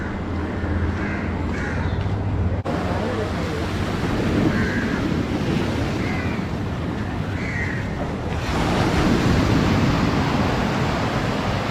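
Surf rolls in steadily at Dharavi beach in Mumbai as a broad, continuous wash, with crows cawing now and then and wind buffeting the microphone.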